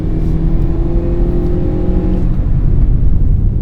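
A Lada Granta engine revs hard with the accelerator floored, a loud, close, strained drone holding high and steady and then dropping away toward the end.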